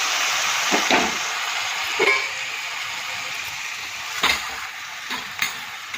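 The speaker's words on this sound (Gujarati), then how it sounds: "આ દહીં અને ડુંગળી શેકાય છે." Curd and onion frying in a pan for a Gujarati cluster bean and yogurt curry, a steady close sizzle broken by a few sharp stirring scrapes of a spoon against the pan, with no talking.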